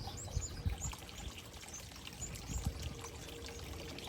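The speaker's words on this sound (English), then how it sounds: "That's a little warbler. Just some sort of warbler." Small yellow-olive warbler singing in a vegetable garden, with thin high chirps scattered over a steady trickling, pouring water background. The birdsong stays faint and in the distance, with no voices.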